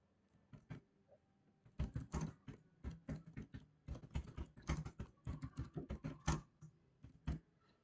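Someone types on a computer keyboard while entering company details in Tally Prime accounting software: quick, irregular bursts of close, quiet keystrokes with short pauses and no talking.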